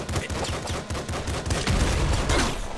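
Rapid gunfire from the video game Nuclear Throne, with dense, relentless bursts of shots firing one after another without pause at close, loud range, forming a continuous clattering barrage.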